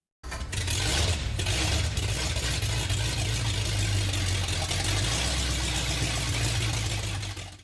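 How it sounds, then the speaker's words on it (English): Ford Flathead V8 engine running at a steady, rough, close idle, a constant low rumble with no voices. "The Ford Flathead V8 is essentially the grandfather to all American V8 engines."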